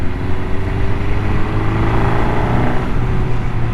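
An MV Agusta 750 Brutale motorcycle engine runs steadily up close, a loud, continuous mechanical drone with a low throb and no talking.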